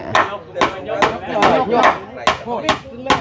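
Hammering while raising a wooden house pillar, seven sharp, evenly spaced blows ringing out close and loud, with faint voices in the background.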